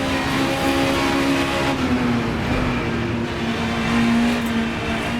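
Race car engine in the Assetto Corsa racing game, right-hand drive, a loud, sustained drone that shifts pitch as the car accelerates and changes gear, with no voices.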